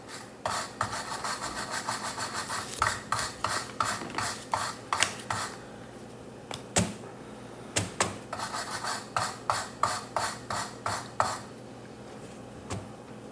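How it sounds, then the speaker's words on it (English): Sandpaper scrubs rust off a steel bolt held in a socket, a close, rhythmic rasping in repeated strokes, pausing briefly midway and then resuming in a steady back-and-forth pattern. "I found if I put the bolt in the socket, it makes it easier to clean the rust off."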